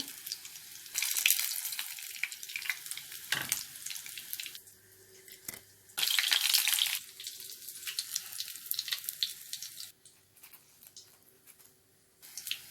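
Yufka börek brushed with a yogurt sauce fries in a pan over medium heat, giving close crackling sizzle in loud bursts that alternate with quieter, sparser spells and brief lulls, with no voices.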